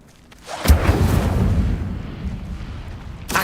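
A burst of fiery spell-casting from the Incendio fire charm in Hogwarts Legacy: a sharp onset followed by a sustained, loud roaring whoosh that slowly fades, with a second crack at the end.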